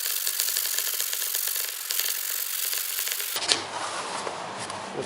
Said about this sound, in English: you can go ahead and hit that with some sandpaper just to smooth it out a little more